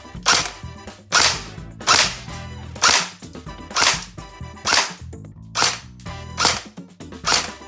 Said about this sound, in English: we're gonna shoot this thing and use our EPM and see how it goes. Semi-auto on our little target over there